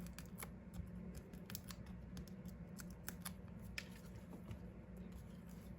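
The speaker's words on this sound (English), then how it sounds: "Peel off our backs for our dimensionals here" Paper backing peels off adhesive foam dimensionals in quick, crisp crackles and ticks, close and fairly faint over a low steady room hum.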